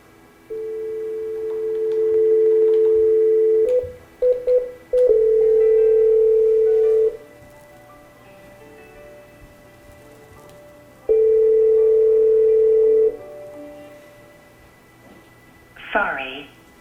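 A Cisco IP phone call placed between office handsets, long steady ringback tones in repeated bursts separated by brief clicks and pauses, ending in a short rising chirp as it diverts to voicemail.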